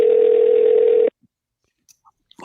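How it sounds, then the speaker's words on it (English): A steady telephone ringback tone on a call about to go to voicemail, one long even hum lasting about a second, then silence with a few faint clicks. "I think we're going to go to voicemail."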